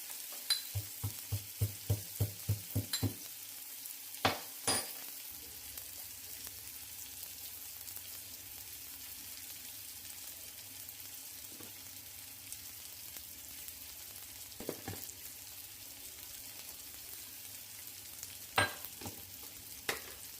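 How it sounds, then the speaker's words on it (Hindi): Onions frying in hot oil with cumin, chili, turmeric and asafoetida, a quiet steady sizzle with a run of sharp stirring clicks and taps early on and a few scattered knocks later. "यहाँ तेल गरम हो गया तो जीरा और प्याज, मिर्ची, हल्दी, हींग सब डाल के मैंने प्याज को थोड़ा गोल्डन ब्राउन होने तक भून लिया था"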